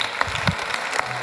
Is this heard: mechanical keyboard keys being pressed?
no